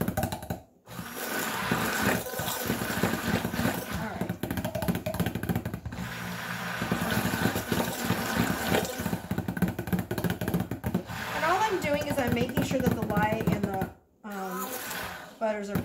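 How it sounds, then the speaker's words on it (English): A kitchen blender whirs steadily while mixing a batch of cold process soap batter, a loud continuous motor drone that fills most of the stretch with a brief cut near the end. "All right, in goes to the blender."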